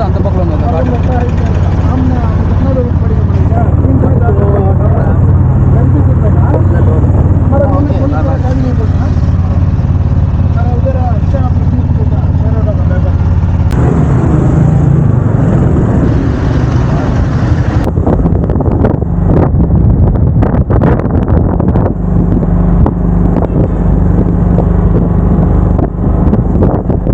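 A car on a road heard from close by, with engine rumble and heavy wind buffeting across the microphone, the traffic noise steady and loud, with people talking over it.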